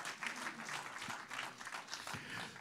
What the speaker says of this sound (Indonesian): Boleh tepuk tangan dulu bagi Raja kita